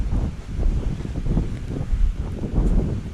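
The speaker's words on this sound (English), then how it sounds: "winds are supposed to be up today to about 60 kilometers an hour" Strong outdoor wind gusting to about 60 kilometres an hour buffets the microphone with a loud, low, continuous rumble that rises and falls in gusts.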